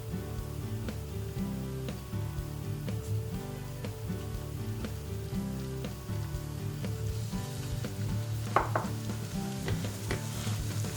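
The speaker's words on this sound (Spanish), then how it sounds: "Cuando veamos que el aceite está tibio, incorporamos la harina." Flour sizzles steadily in warm olive oil for a vegan béchamel, with a soft, continuous frying hiss and light scraping clicks from stirring, close and alone.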